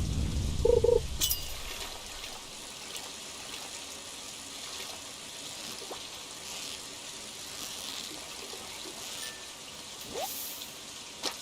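Rain in the Stardew Valley farming game makes a soft, steady patter that hisses continuously, with a few brief thumps and clicks at the start and scattered faint ticks afterward.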